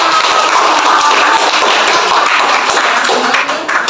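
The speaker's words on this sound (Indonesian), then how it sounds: "beri tepuk tangan" A class of students in a biology teaching session claps on cue, a loud, dense burst of clapping that holds steady before tapering off at the end.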